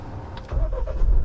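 Mahindra Thar engine cranking and catching, a short burst of starter whir that rises into a low, close rumble as the motor comes to life.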